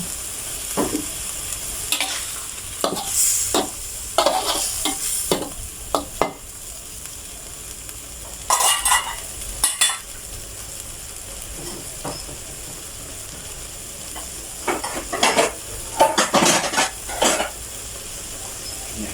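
Spicy fish balls are stir-fried in a pan, with a steady sizzle under repeated bursts of spatula scraping and clatter against the metal, spread unevenly across the stretch.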